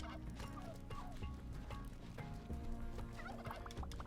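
Turkeys gobble in a video game, their rapid, warbling calls repeating and overlapping continuously at a fairly low level, with no talk.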